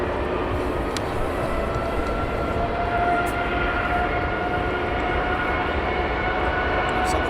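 A British Airways Boeing 787 Dreamliner jet at Heathrow, its engines giving a steady, loud broadband roar that holds evenly throughout with no talk.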